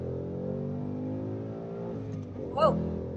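A 2018 Ford Mustang GT with a manual gearbox and Performance Pack hums steadily from inside the cabin, with engine tone building. People talk over it, and a voice exclaims sharply near the end.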